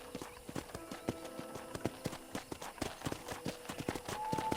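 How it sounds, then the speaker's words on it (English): Rapid clip-clop of horse hooves trotting at a steady rhythm in the video game Red Dead Redemption, close and fairly loud, with a faint tonal sound near the end and no speech. "let's see if you can still ride a horse."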